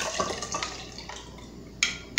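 Warm water with dissolved yeast is poured into a bowl of sweet condensed-milk bread dough, a soft liquid trickle and splash close up, ending with a couple of sharp clinks against the bowl.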